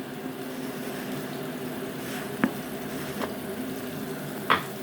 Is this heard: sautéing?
yes